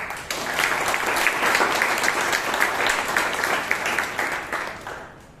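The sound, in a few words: applause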